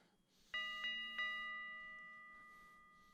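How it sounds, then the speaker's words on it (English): A bell rings on stage during a 2018 theatre production of Macbeth, giving three quick bright strikes in close succession whose pure ringing tone then decays slowly, heard alone and fairly faint. "The bell invites me."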